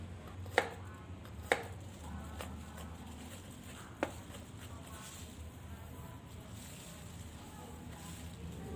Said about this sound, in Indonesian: 2 siung bawang putih saya cincang juga bawang putihnya.